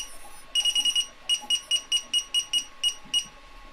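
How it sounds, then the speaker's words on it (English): An electronic buzzer sounds once a battery is connected, shrill repeated beeps in quick bursts, a short run then a steady series of evenly spaced pulses, close and loud. "Buzzer works."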